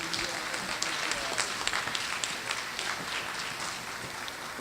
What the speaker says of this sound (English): A round of applause for our teacher education students.